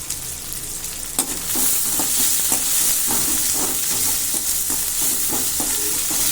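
Onions sauté in a pan for capsicum gravy, giving a loud, constant frying sizzle. Repeated soft scraping strokes of a spoon stirring run through it, close up with no speech.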